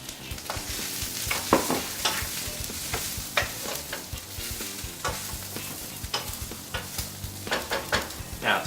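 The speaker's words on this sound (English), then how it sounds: "Give it a little stir." Vegetables stir-frying in a seasoned pan, a steady close sizzle broken by repeated scraping and tossing strokes from a utensil, with no voices over it.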